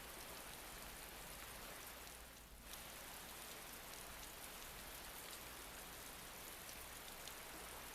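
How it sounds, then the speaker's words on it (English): Steady, dense rainfall at a port in the game Tales of Berseria, a continuous hiss of drops on surfaces that fills the whole stretch at even loudness, with no voices over it. "It's a rainy day at this port."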